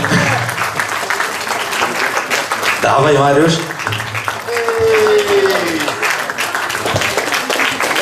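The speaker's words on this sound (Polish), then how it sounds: "Jeszcze raz, wielkie brawa!" Audience applause at a 2015 student initiation evening, loud and sustained throughout, with a crowd voice shouting over it and some music or tonal sounds briefly cutting through midway.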